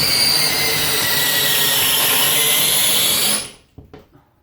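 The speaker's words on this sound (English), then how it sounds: "Let me see if I can get this one in with my drill." A power drill drives lag screws into a wall for a full-motion TV wall mount, a loud, steady whirring strain that stops abruptly, followed by a few faint clicks and taps.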